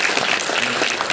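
Dense, loud applause from a large seminar audience, a brief continuous burst of many hands clapping together with no voices on top.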